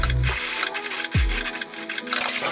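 A domestic sewing machine topstitches a shirt placket from top to bottom in short bursts, its motor whirring up and stopping between runs, close and fairly loud.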